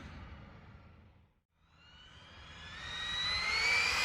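An Arrma Mojave 6s RC car's electric motor runs at full throttle: a close, high whine drops out briefly, then climbs steadily in pitch and loudness as the car speeds away.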